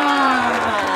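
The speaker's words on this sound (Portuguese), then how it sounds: "palmas pra Willis!" Crowd clapping and cheering at the Batalha da Aldeia rap battle in Barueri, a steady wash of applause and voices with a prominent shouted tone running through.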